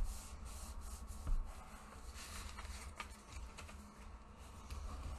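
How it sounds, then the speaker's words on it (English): Cardstock hinge being burnished by rocking it back and forth for a mini album, faint soft rubbing and scuffing strokes close by, quiet and continuous. "Burnish it if it feels pretty stiff."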